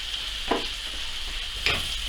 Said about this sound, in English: I'm going to give that a stir up